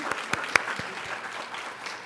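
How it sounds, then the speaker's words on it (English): Applause from a conference audience at an annual academic conference welcome session, a burst of clapping with a few sharp early claps, then a steady wash of many hands that holds for about two seconds. "I think we need to give you a round of applause"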